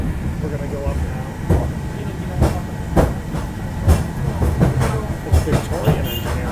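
A Victorian-era tram, over 120 years old, climbs uphill in Hong Kong with a rumbling roll and repeated rhythmic clacks and thumps from the track, close and fairly loud throughout.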